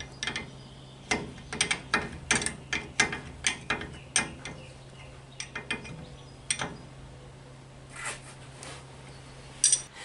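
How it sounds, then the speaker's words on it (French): Two 14 mm flat wrenches tightening bolts on the rear axle of a Citroën Traction 11B during reassembly: a run of close, sharp ratchet-like clicks and metallic ticks, sparser and fainter toward the end. "deux clés de 14 plates et un petit coup de serrage"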